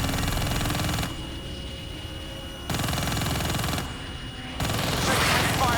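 Heavy gunfire from a Call of Duty: Black Ops 3 battle, a dense, steady roar of rapid shots and blasts that runs loud throughout, shifting in intensity in blocks with no pauses.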